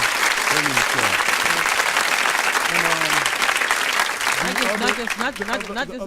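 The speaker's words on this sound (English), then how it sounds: "Clap it up. Clap it up." Studio audience applause for a guest on a community radio show, steady and loud throughout, with a voice talking over it and another voice joining near the end.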